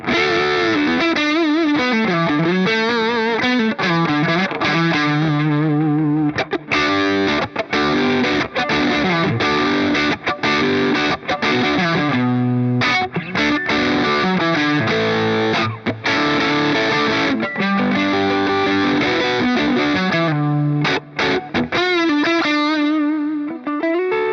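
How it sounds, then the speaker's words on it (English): A Stratocaster electric guitar plays continuously through a Boss Metal Zone distortion pedal, heavy, saturated distortion, a thick, compressed riff with sustained chords and melodic lines, loud and steady throughout. "you can make a Metal Zone do kind of sweet mid to low gain tones on a Strat as well"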